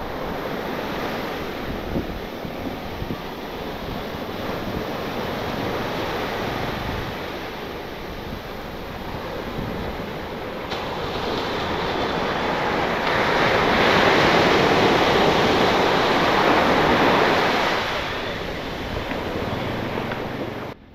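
High-tide surf rolls onto Alibag beach in a steady loud wash, swelling stronger midway, with wind buffeting the microphone throughout.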